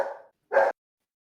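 A dog barks twice nearby, a drawn-out bark fading away and then a short, sharp one after a brief pause, with silence around them.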